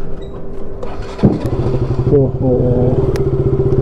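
A motorcycle fresh from a service starts up with a clattery catch, then settles into a loud, close, steady idle and revs as it moves off, with a brief exclamation over it.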